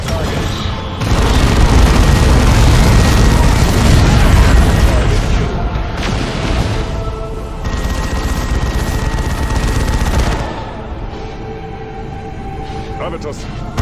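Dawn of War 2 battle: a heavy grenade blast and booming explosions with bursts of rapid gunfire, loud and sustained, fading into a quieter rumble, with voices speaking over the combat.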